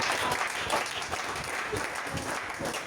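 A church congregation claps steadily in acclaim of the king, a dense, even wash of many hands applauding throughout the short moment, with no distinct voices standing out.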